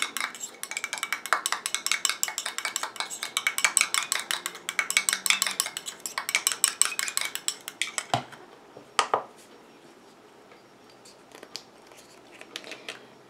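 A lash and brow booster mixture is stirred in a small container, giving a fast run of close, busy clinks and scrapes for about eight seconds, then a couple of sharper knocks and quieter scattered taps.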